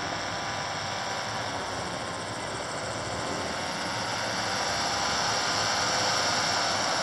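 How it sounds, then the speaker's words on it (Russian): A helicopter flying over the ice of Lake Baikal at an evening parade slowly recedes behind a hill, its rotor drone steady and fairly distant, with a broad engine hum and a whine on top and no talk. "Вертолет удаляется за сопку."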